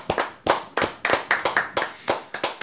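A small group claps in a quick, even rhythm for a dessert at the hotel-restaurant Les Pervenches in Chambéry. The sharp claps come close and loud, in about a dozen bursts over a few seconds, with no talking.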